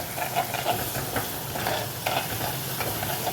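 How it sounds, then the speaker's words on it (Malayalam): Crushed ginger, garlic and shallots sauté in a pan with a dense, continuous sizzle and rhythmic stirring scrapes close by, with no talk. "നമുക്കിതൊന്ന് നല്ലപോലെ വഴറ്റുക."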